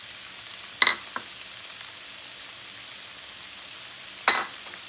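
Eggs frying with rice in a pan give a soft, steady sizzle, broken by two brief sharp clicks of utensil against pan.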